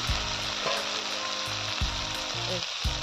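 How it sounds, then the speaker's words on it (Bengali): Spinach dropped into hot oil in a pan with fried small crabs and onion, sizzling loudly and steadily up close, with a few stirring clatters and no talking. "পালং শাকটা এই তেলে ছেড়ে দিই।"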